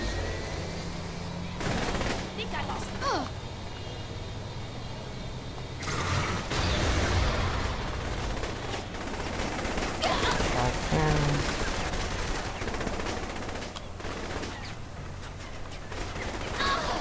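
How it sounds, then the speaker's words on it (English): An automatic gun fires in Saints Row 3 in repeated bursts of rapid shots over about seventeen seconds, mixed with clanks and creaks of game action. "I like this gun basically because it's automatic"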